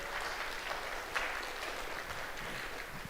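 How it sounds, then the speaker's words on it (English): Applause from a college convocation audience after an author's talk, moderate and steady throughout, with a slightly louder clap standing out near the middle. "If we could give a last round of applause for Mercedes."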